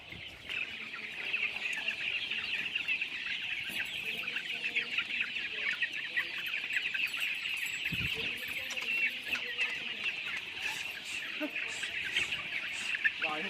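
Chickens in a local poultry farm in Assam cluck and chirp continuously, a dense close chorus of many birds heard throughout with no talk over it.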